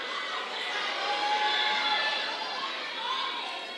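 Crowd at a Miss Botswana pageant grand finale screaming contestants' names, a continuous roar of shouting and cheering voices, dense and distant-sounding with no single voice standing out.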